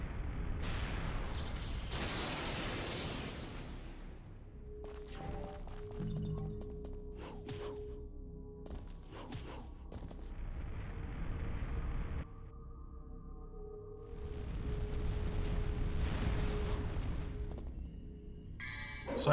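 Air Raid firing in Devil May Cry 1 on Dante Must Die difficulty: bursts of booming game explosions and pops recur in loud clusters over a steady mix of game effects and tones, with no talk.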